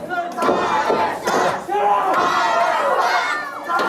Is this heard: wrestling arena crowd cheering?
yes